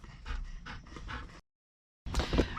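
A dog whimpers and yips inside a parked vehicle at the Little Bighorn battlefield memorial. The whines are close and fairly loud, broken by a short silent pause before a final whimper.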